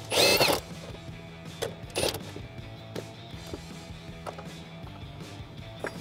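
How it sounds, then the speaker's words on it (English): An impact wrench with a 13mm deep socket removes a nut on a Jeep Wrangler JL, giving two short rattling bursts, followed by quieter clicks and handling noises. "I'm going to take a 13mm deep socket, my impact wrench, and I'm going to go ahead and remove that."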